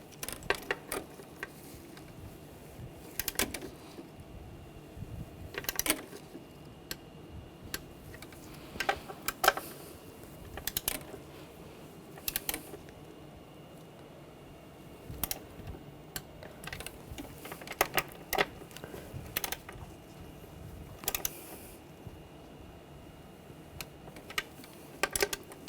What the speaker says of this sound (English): I'm going to torque these bolts to 7 foot-pounds.